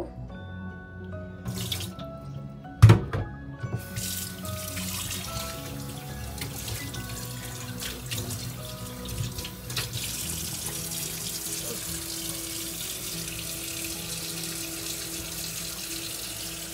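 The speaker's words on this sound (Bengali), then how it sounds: "ওই মূলা থেকে এতটুকু পানি বের হয়েছে লবণ দিয়ে মাখিয়ে রেখেছিলাম তখন এই পানিগুলো আমি ফেলে দেব" Water drawn out of salted radish is poured away into a sink, running steadily for the whole stretch with a sharp clunk near the start.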